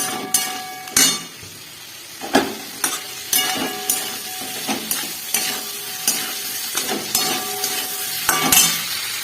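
Potatoes and spices sautéing in a pan for an egg curry with a thin gravy, a steady close sizzle broken by repeated scraping stirs and clanks of the spatula against the pan, no voices.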